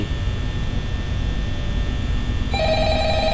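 A telephone in the Five Nights at Freddy's video game starts ringing late, a sharp electronic ring over a steady low hum, with no one talking.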